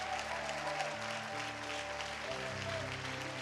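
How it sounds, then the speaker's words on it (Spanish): A church congregation applauds during a sermon, a steady dense clapping wash over sustained keyboard chords, moderately faint and continuous. "Yo creo que si aplaude, usted aplaude de verdad."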